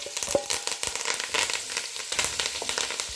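Green chilies, onions, thyme and mint frying in margarine, a close crackling sizzle with scattered pops and a few stirring clicks, fairly soft and steady across the short stretch with no voices.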